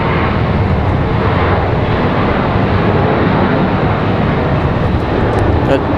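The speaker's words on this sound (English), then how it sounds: "That 737 getting a move on out of here." A Boeing 737 airliner departing from Raleigh-Durham airport makes a loud, continuous jet roar with a broad rushing rumble that holds steady throughout, with talk over it.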